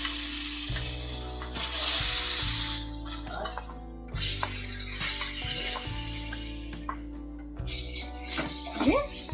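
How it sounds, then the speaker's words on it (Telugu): Chicken pieces frying in hot oil in a pan, giving a steady sizzling hiss with some crackles, partly masked by loud background music. "ఆయిల్ వేడెక్కింది ఇప్పుడు చికెన్ పీసెస్ పెట్టుకోవాలి"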